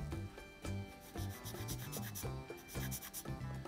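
A Gunpla plastic model part being filed down by hand, with a series of rhythmic rasping strokes, close and fairly quiet, about seven passes.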